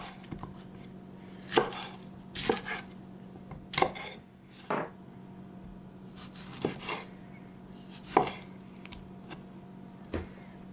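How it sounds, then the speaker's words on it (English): Knife chopping vegetables for roasting on a cutting board, a series of irregular, sharp, close thuds spaced a second or so apart over a low steady hum. "I'm just going to chop up these veggies and pop them in the oven."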